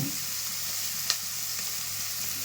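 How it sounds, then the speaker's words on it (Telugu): Onions frying with a pinch of salt in a pan for a Telugu cucumber and tomato curry, giving a steady hiss of sizzle with one brief stir or clink near the middle, no voices. "ఉల్లిపాయలు త్వరగా వేగాలంటే ఇందులో కొంచెం ఉప్పు వేసుకోవాలి"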